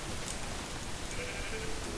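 Sheep bleating in the video game Minecraft during a survival session, a soft brief call sitting under a steady hiss of rain-like background noise.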